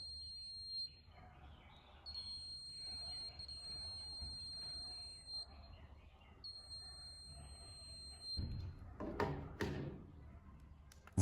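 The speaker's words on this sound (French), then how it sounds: "S'il y a un signal sans fil à proximité, le détecteur émettra une alerte pour vous prévenir." A K68+ wireless signal detector sounding its alert, a thin steady high beep tone held for a few seconds at a time, broken by short gaps, with a voice speaking faintly beneath and handling noise near the end.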